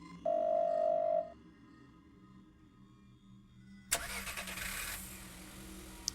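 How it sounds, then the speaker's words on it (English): A short electronic tone sounds first, then after a pause a car engine cranks and catches, settling into a steady running rumble nearby. "The sound of a car starting is coming from outside the door."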